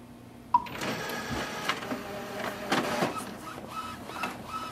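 Epson WF4830 inkjet printer printing a nozzle check sheet, opening with a sharp beep, then whirring carriage passes, mechanical clicks and paper-feed shuffles in an uneven rhythm, close and moderately quiet.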